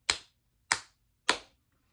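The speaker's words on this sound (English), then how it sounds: "Me, I clap my hands." Three sharp, separate hand claps spaced evenly about half a second apart, close and crisp, each dying away quickly into near silence.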